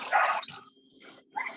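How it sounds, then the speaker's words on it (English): A dog in a residential compound barks close by, picked up over a live online call: a couple of short, sharp barks separated by a brief pause. "Do you have a dog barking beside you or what?"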